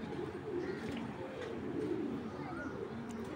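Fancy pigeons coo in low, soft, rolling calls that repeat through a quiet, steady background hum, close and fairly faint.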